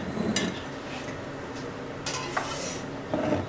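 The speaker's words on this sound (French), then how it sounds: "et on va mélanger le tout" Melted chocolate and butter are mixed in a bowl, making soft scraping swishes and a few light clinks of utensil on the bowl, close and moderately loud, with no talk.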